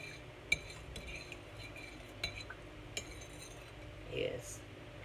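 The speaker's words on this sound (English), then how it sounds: "You're stirring this up and keep stirring it." A melting skin-care mixture being stirred in a pot, with faint scraping and a few sharp metallic clinks of utensil against the pot over a low background hum, quiet and close.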